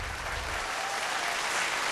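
A crowd at a televised vocal battle show claps for the sponsors, dense and loud, held steadily the whole time.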